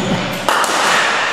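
A cricket bat strikes the ball in a single sharp knock during a batting practice session, close and crisp, with a coach's voice briefly around it.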